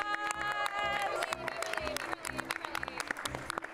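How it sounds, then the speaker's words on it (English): Applause from an audience fills the room, steady clapping mixed with crowd noise and some music-like tones, continuing throughout. "give Beverly a round of applause"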